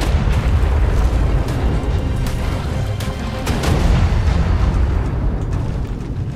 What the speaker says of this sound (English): That's such a cool explosion effect, and I will never get tired of it.